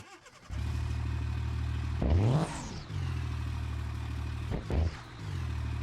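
A first-gen truck in the BeamNG driving game: the engine starts into a steady idle and gets two quick revs that rise and fall, close and loud, with no talking.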